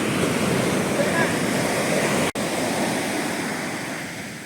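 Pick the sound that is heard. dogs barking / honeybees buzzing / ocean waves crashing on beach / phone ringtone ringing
ocean waves crashing on beach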